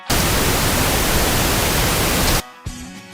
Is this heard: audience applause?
no